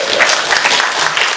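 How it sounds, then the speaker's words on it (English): An audience claps loudly and steadily for about a second and a half at a lively evening talk event, with dense continuous applause and no talking. "Give Mark a big clap."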